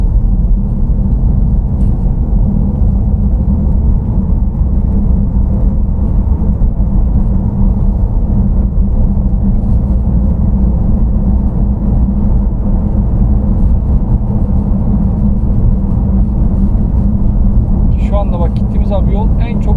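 Tyre and road roar from a Volvo S60 1.6 D driving over chip-seal asphalt, tar with loose gravel spread on top, a constant low rumble heard from inside the cabin, with some faint brief sounds near the end.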